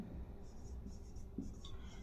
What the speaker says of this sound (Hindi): तो यहां लिखते हैं